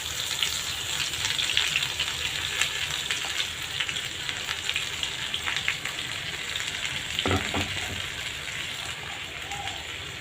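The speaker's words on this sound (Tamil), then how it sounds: "ஊற்றிட்டு நல்லா துவலாக வதக்கிக்கலாம்." Onion, tomato, ginger and garlic paste ground with curd, sautéing in oil for an egg gravy, a soft steady frying hiss, fairly faint, with an occasional stir or clink and no speech.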